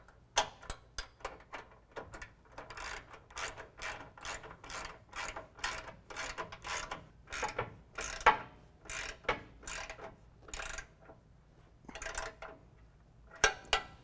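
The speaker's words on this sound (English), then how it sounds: "then you can go ahead and tighten the bumper to the brackets" A ratchet wrench clicks in quick, uneven bursts of sharp ticks while a 19mm bolt is tightened on a front bumper bracket of a 2017 Dodge Ram, close up and with no talking.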